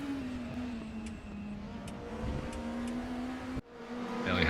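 Race car engines from the RaceRoom racing game, 1992 DTM cars including a Ford Mustang at Brands Hatch, drone steadily at a sustained high pitch, with a brief cut near the end before the whine resumes.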